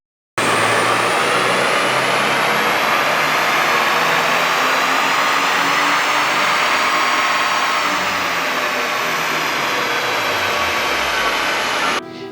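A 2022+ Subaru VB WRX with a cast aluminum turbo inlet screams on a dyno under increased boost, a loud sustained high-revving engine and turbo whine that climbs steadily for about twelve seconds before cutting off abruptly.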